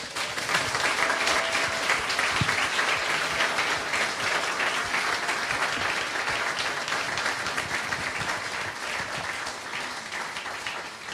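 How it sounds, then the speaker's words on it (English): Sustained audience applause at a panel event featuring poems and songs about immigrants: a dense wash of many hands clapping at a steady, moderate level that fades slightly toward the end. "Now, let's give a round of applause."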